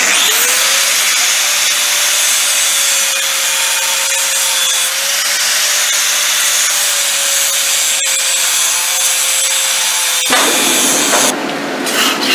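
A Damascus steel billet is sawn down the middle in a loud, steady, continuous cutting whine with a sustained tone, running unbroken for about ten seconds before a sharp change as the cut ends.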